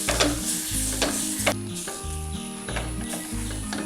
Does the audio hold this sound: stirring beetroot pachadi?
yes